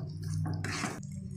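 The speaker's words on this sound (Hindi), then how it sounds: "1 बड़ा चम्मच मैं इसमें पानी ऐड कर रही हूँ" A spoonful of water added to a spice masala for Rajasthani kair sangri pickle, heard as a short wet splash and drip close by over a steady low hum.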